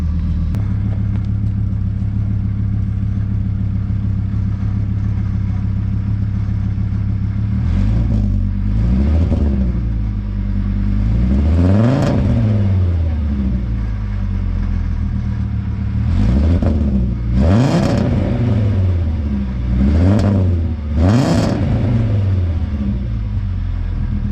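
A car engine idles with a deep exhaust rumble through a new HRE exhaust mid pipe with Remus parts, then revs sharply several times in quick bursts, each climbing and falling back; loud and close.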